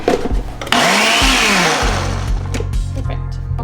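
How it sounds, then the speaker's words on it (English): Kitchen blender pulsing thawed raspberries into a puree, with loud motor whirrs that rise and cut off in short bursts, close and alone. "we're gonna add these to our blender, and we're gonna pulse these up into a puree"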